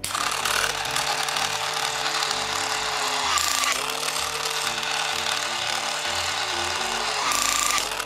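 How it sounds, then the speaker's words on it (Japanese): An electric drill drives a bolt into the leg of a plastic Ankylosaurus dinosaur figure, a close, steady whirring tool noise with a changing pitch and rough grinding texture, running continuously for several seconds with brief pauses in speed. "電動ドリル、奥まで行ったらガチガチガチって言うんで、そこでストップですね"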